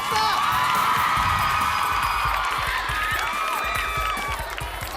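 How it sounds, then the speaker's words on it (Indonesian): Studio audience cheering, whooping and clapping for Basto on a television show, a loud, sustained crowd roar with shrill shouts and applause throughout. "Tepuk tangan dong buat Basto."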